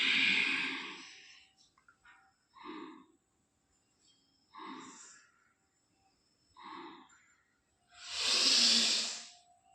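Slow natural breaths during a yoga exercise, close and quiet: several soft, airy inhales and exhales in a steady rhythm, the last one longer and louder, with silence between them.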